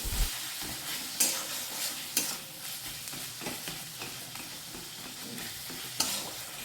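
A spatula works a spiced tomato masala in a pan, with scraping strokes and occasional sharp knocks over a soft, continuous frying sizzle, no voices present.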